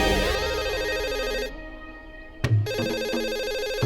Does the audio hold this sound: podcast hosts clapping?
no